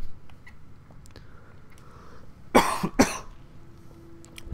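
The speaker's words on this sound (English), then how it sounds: "Had a cough." A person coughs twice in quick succession, close and fairly loud, in a quiet room with faint background noise.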